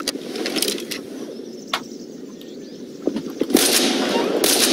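Shotgun blasts in the Garry's Mod sandbox game, a few sharp loud bangs at intervals over a busy background of game noise, with a denser burst of firing near the end.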